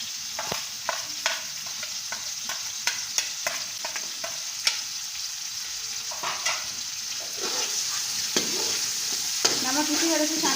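Carrots with salt stirring and sizzling in a pan of frying oil, a steady close crackle with repeated scraping stir strokes throughout, no talking.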